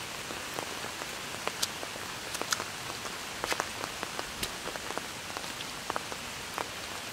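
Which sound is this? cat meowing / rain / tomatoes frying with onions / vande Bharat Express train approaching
rain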